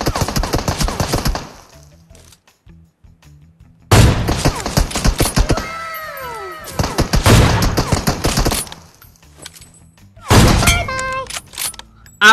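Gunfire in the mobile video game PUBG Mobile comes as loud, rapid automatic bursts that stop and start in three clear volleys separated by short lulls, close and harsh.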